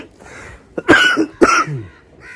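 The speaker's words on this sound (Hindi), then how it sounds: "खांसी भी बहुत है।" Two harsh coughs from a person in a Pakistani village home, close and loud, separated by a brief pause and followed by a short throaty breath.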